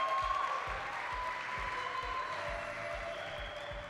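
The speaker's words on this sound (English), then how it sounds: "Let's go, clap it up." Sustained applause from a festival audience fills the hall as a steady, moderately loud wash of clapping, with a rhythmic low thumping running underneath.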